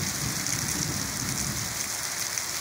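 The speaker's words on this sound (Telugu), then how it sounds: "అదే వర్షం చూడండి ఎట్లా పడుతుందో" Heavy rain pouring down in a village, a dense, steady roar of drops hitting surfaces, close and loud with no pauses, and no voices.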